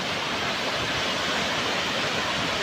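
A natural waterfall pours steadily, a dense, unbroken broadband rush that stays loud and close throughout, with no voices over it.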